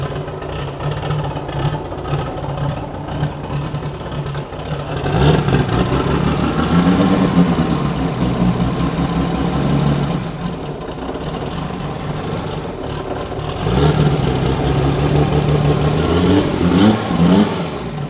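A Ford Foxbody Mustang's electric motor, swapped in with a 5-speed manual, whirs and rises in pitch as it accelerates, then settles and revs up again, loud and close, with no one talking.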